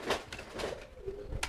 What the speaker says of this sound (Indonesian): ini merpati jantannya yang mau saya jodohkan